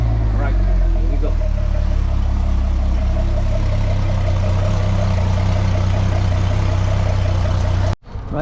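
A Mercury 225 HP outboard engine on a Jeanneau 795 NC boat idles steadily with a deep low rumble, close and loud, before cutting off abruptly near the end; voices may be faintly present.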